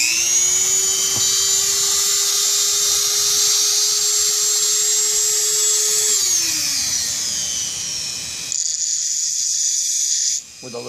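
A Dremel spinning a small file tip against a Damascus pen runs as a loud, high steady whine, then winds down in pitch and cuts out, leaving a short quieter buzz.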